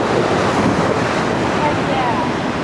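Whitewater river waves on the Middle Ocoee River roar steadily around a raft, a loud continuous rushing wash mixed with wind buffeting the microphone.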